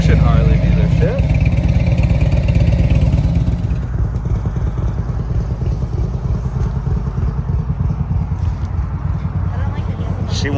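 A Harley-Davidson Road Glide motorcycle is ridden on the road: a loud, steady engine rumble with wind noise runs throughout, easing slightly after the first few seconds.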